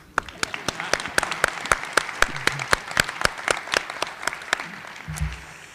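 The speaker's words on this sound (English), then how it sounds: "We'll applaud anyway." An audience at an alumni awards convocation claps together in a steady burst of applause that thins out toward the end, moderately loud.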